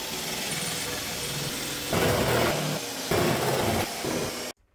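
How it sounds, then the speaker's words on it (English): Power drill boring into the top of a strut mount on a Volkswagen Golf MK2 GTD, a steady whirring drone that rises into two louder, harsher bursts as the bit bites, then stops abruptly. "I will drill out the top of the strut mount."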